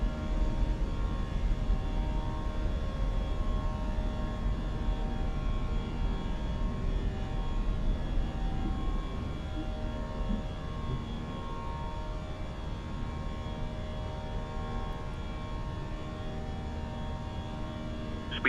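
A BA A321 airliner climbs after takeoff in a flight simulator game, its engines a steady, loud drone with a constant tonal hum holding evenly throughout, no voices over it.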